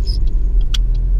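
Car engine in a manual-transmission car rumbles low and steady at close range as gas is applied in first gear, a short continuous drone with faint higher chirps and no speech.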